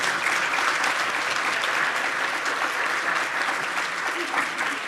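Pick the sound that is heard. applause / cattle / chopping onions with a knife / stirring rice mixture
applause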